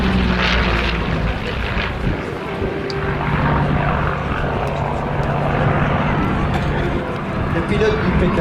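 Curtiss P-40 warplane at the La Ferté-Alais air show, its propeller engine droning loud and steady through the whole stretch while a commentator talks over a crowd.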